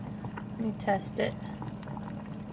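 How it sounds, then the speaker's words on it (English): A pot of water bubbles at a steady boil with potatoes cooking inside, a soft continuous simmer with a few brief clinks as a person speaks briefly over it. "it's been boiling for a while"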